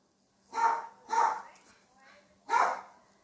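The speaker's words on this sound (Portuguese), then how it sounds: "A minha cachorrinha resolveu latir agora." A small dog barks three times, sharp and fairly close, with short pauses between the barks.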